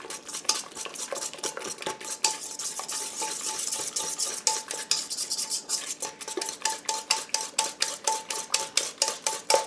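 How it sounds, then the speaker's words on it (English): Avocado oil and ingredients are whisked in a bowl, a fast rhythmic clatter of whisk against the bowl that speeds into tight, even strokes toward the end, close and loud. "Now I'm just going to whisk this all in here."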